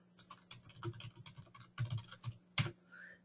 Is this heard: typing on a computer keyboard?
yes